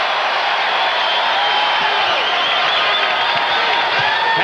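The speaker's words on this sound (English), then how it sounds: "Now the crowd making some noise in the Target Center." Crowd noise inside the Target Center during a 1991 NBA basketball game, a steady roar filling the arena under continuous play-by-play commentary.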